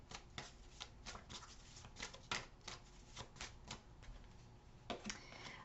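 Tarot cards shuffled by hand, a quiet, close series of rapid crisp riffling bursts and taps repeating in an irregular rhythm.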